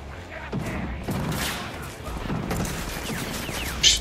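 Weapon fire in the video game Rage 2 crackles in scattered bursts of shots over a low game rumble, with a player's voice talking in between.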